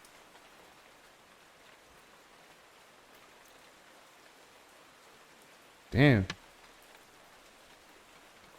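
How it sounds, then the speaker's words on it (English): Faint, steady rain hiss falls outside throughout, with one brief spoken exclamation about two-thirds of the way through. "it was the rain noise"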